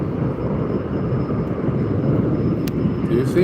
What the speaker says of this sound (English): But where's that jet?